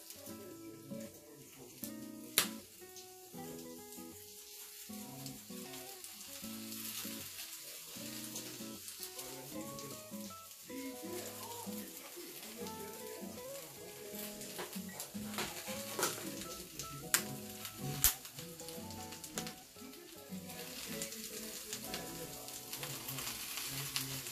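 Cabbage sizzles and fries in a hot pan, a steady crackle running under background music with occasional sharp clinks and stirring noises.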